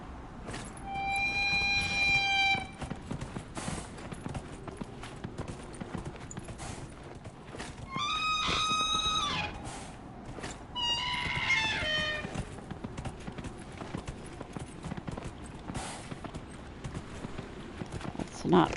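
A horse in Dragon Age Inquisition clip-clops steadily while being ridden, its hoofbeats running throughout under a few brief tonal calls.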